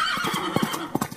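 A horse whinnies in a short shaky neigh while hooves clop a few times underneath, close and clear in a brief burst.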